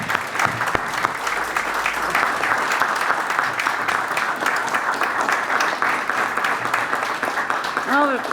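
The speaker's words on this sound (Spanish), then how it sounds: "un gran aplauso para Magdalena, porque es un gran trabajo." Sustained audience applause fills a book presentation about open-air murals in Valparaíso, steady dense clapping for several seconds with a voice faintly speaking over it near the end.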